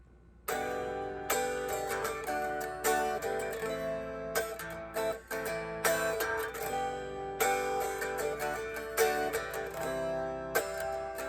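Strummed guitar chords in a shifting, syncopated rhythm, with sharp attacks and brief pauses between phrases, played close and clear without any voices.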